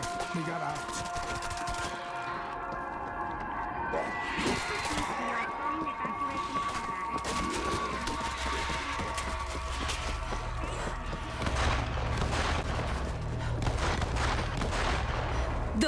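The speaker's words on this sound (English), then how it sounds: "Those shots came from the highway." Distant gunfire from the World War Z video game, set in Tokyo, crackling in scattered bursts beneath a dense bed of game ambience and effects, with no clear talking in this stretch.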